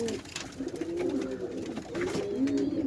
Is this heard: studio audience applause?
no